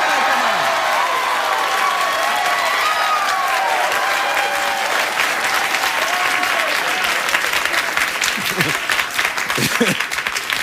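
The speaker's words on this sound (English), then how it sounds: "I don't want you to hold your applause." Warm studio audience applause on a late-night talk show, long and steady with cheering mixed in, while someone talks over the clapping throughout, rising slightly toward the end.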